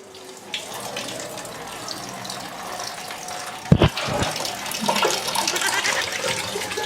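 Water running from a bathroom tap, a steady close splashing stream with a short clattering knock partway through, no talk.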